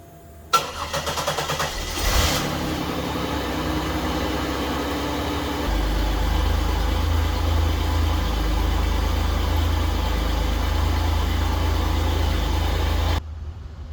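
A Buick car engine, unstarted for weeks, turns over briefly, catches and settles into a steady idle, then the rumble deepens and grows louder, running continuously until it cuts off near the end.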